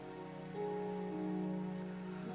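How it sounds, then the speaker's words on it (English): Steady rain hisses in the block-building game Minecraft, played in the Sky Factory 3 modpack, a continuous even patter with sustained musical tones layered over it and no voices. "it's been raining all day"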